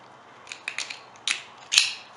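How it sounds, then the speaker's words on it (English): Block nut on a Cat Nomad trekking pole being twisted by hand, a few small plastic clicking and ratcheting ticks in quick irregular bursts, close and quiet with no talking. "In that case, simply rotate the block nut clockwise. Just make a few rotations."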